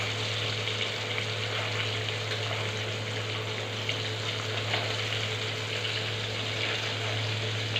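Fish frying in hot oil in a pan for a Sunday fish fry, a steady close sizzle and crackle with a constant low hum underneath, unbroken throughout with no talking.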